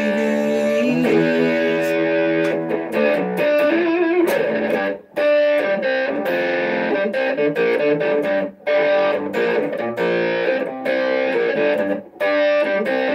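An electric guitar plays a riff through distortion and a wah pedal on an effects unit. The tone is loud, sustained and gritty, with brief gaps between phrases.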